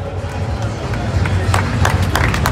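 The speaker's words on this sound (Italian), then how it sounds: "di fare un applauso anche a lei" Crowd applause with scattered sharp claps and a murmur of voices fills the air around a national championship podium, steady and fairly close throughout.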